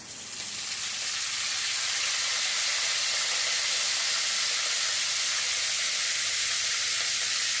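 Spices and curry leaves tempering in hot oil, a sudden sizzle that swells within a second into a loud, dense, steady hiss continuing alone.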